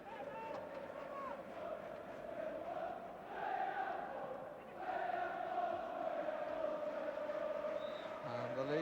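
Leeds United football crowd at Sheffield Wednesday in a Division Two match roars and chants continuously in the closing minutes, a dense, steady wall of voices from a distance with rising swells.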